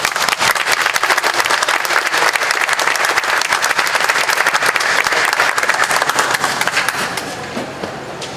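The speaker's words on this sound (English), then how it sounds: "Everyone, please give him another round of applause, please" Crowd applause for Mayor Doug Denny at the 2025 Hmong Wausau Festival, dense sustained clapping from a large audience that holds steady for several seconds before tapering off at the end.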